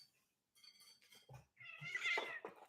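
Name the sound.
cat meowing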